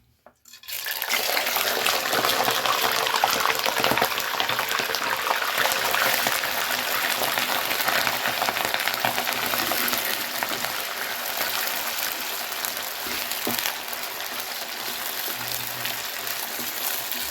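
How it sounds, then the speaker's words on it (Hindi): Meat hits hot ghee in a karahi and sizzles loudly and steadily, a dense close hiss that starts abruptly and keeps crackling without easing. "घी गर्म हो चुका है। अब इसमें गोश्त डालेंगे।"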